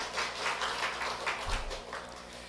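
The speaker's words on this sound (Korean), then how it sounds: "박수 한번 해드리셔야죠." A church congregation applauds, a short burst of scattered hand clapping that sounds moderately distant and fairly faint.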